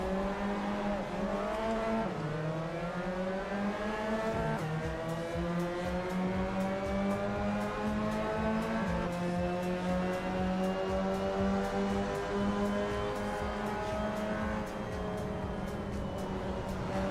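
A pack of Mazda MX-5 race cars in Assetto Corsa drones and climbs through the gears together, a dense layered engine roar holding steadily loud throughout.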